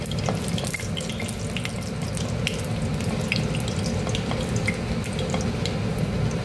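Two dry red chillies sizzle in hot oil as a tempering for dal. A steady, close hiss runs throughout, with small crackles and pops scattered over it.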